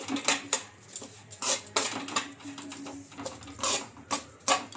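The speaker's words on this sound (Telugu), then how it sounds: "ఈ బొంబాయి రవ్వను వేసుకొని ఒక 2 నిమిషాల పాటు బాగా ఫ్రై చేసుకోవాలి." Bombay rava (semolina) frying in a tempering pan, stirred with a spoon in repeated scraping, clinking strokes of metal on the pan, close and fairly loud with irregular rhythm.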